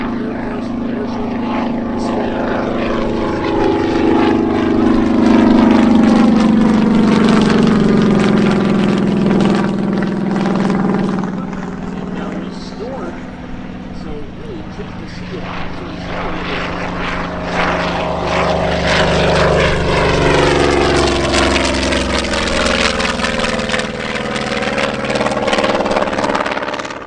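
Propeller airplane flying past at an airshow, a loud sustained engine and airscrew drone that swells and fades with pitch sweeping as it passes, with faint voices underneath.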